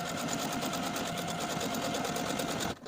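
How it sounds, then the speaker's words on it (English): A domestic sewing machine stitches a buttonhole on a linen jacket, a fast steady rattle of needle strokes heard up close for a few seconds before stopping abruptly. "I'm going to take it to my sewing machine and sew the buttonhole"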